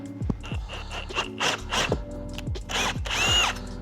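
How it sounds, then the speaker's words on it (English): A power drill whirs in short, repeated bursts, close by, spinning up and biting into a couch part with a grinding edge before a final longer run. "Now I'm gonna drill a hole onto this."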